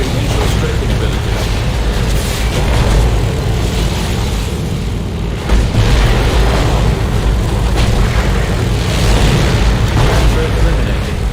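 A Henschel strafing run in the Company of Heroes war game pounds the ground with a dense, loud, continuous wall of booming explosions and rumbling blasts that barely lets up.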